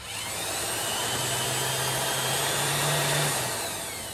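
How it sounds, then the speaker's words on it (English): A heat gun blows steadily for about four seconds while testing a resistive secondary neutral, a loud, even broadband hiss with a low hum that swells slightly toward the end, with no talk. "we're gonna go ahead and bring the heat gun on"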